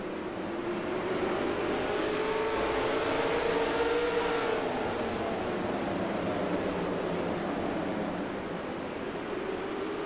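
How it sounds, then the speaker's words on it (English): Several 4-cylinder race truck engines in the NR2003 racing video game at Rockford drone steadily, with a continuous rushing roar and a pitch that slowly rises and falls as the pack passes. "these trucks run 4-cylinder engines, but they sound especially throaty tonight"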